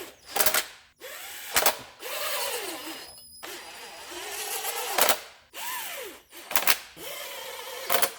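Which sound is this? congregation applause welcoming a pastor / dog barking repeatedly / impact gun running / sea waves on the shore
impact gun running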